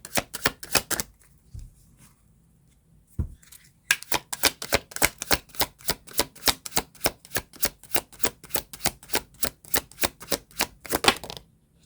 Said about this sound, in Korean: 한 장만 더 뽑아볼게요.